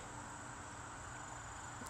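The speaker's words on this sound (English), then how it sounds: "you should see how many grasshoppers we have." Grasshoppers and other insects in a fall garden make a steady, continuous high buzzing chirr that holds at an even level throughout, with no voices.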